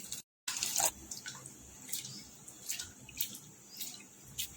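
Water splashes and sloshes in a bowl as flattened rice (poha) is rinsed by hand, with a short dip of silence near the start and soft intermittent swishes.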